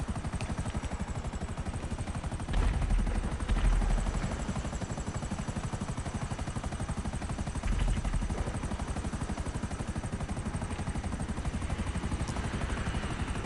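A helicopter in the video game GTA drones with a steady rotor chop throughout, fairly close and moderately loud, swelling slightly a couple of times as it passes overhead. No one talks.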